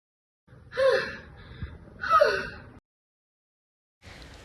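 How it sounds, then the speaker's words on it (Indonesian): Two loud, breathy gasps close together, each a harsh rush of air, followed by silence and then a faint breath at the end. "Nafas Alexa terengah-engah."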